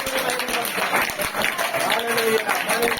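Church congregation at a Sunday worship service clapping together, dense crowd applause mixed with a speaking voice over it.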